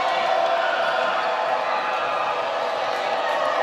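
A loud home crowd in a high school gym at a Darien boys varsity basketball game against Stamford keeps up a steady roar of cheering and noise during free throws, heard close and continuous.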